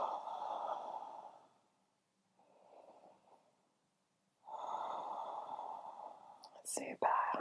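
Deep, slow breaths during a yoga practice: a long soft breath, a quieter one after a pause, then another full breath, all faint and close, with a brief click at the end.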